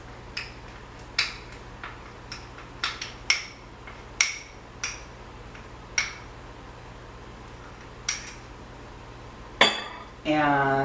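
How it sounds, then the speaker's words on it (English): Coconut oil melted and mixed with honey is whisked in a bowl, giving a dozen or so sharp, spaced clinks of metal against the bowl's side, closing with a brief louder scraping clatter. "So I'm back with my melted coconut oil. So I'm just going to give it a little whisk."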